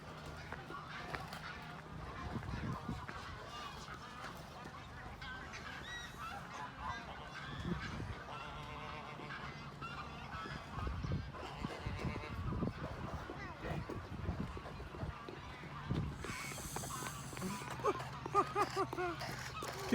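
Geese and other birds honking at a wetlands park, loud calls repeating over several seconds amid outdoor ambience, with people talking at times.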